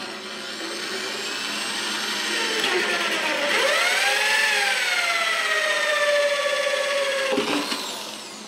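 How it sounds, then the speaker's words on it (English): A 3/4 inch hole saw on a power drill bores a hole for a quail automatic watering system, a steady loud whine rising in pitch as it bites, running several seconds alone before spinning down abruptly near the end. "I'm using a 3/4 inch hole saw."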